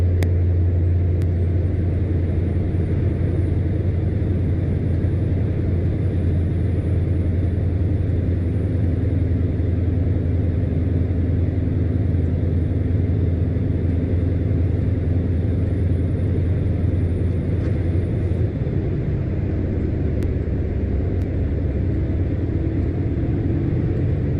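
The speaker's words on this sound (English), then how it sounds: "Once again OptiCruise will shift down to direct drive -1, 11th gear." A truck with an OptiCruise gearbox climbs uphill, its engine a loud, steady, deep rumble that holds throughout with little change.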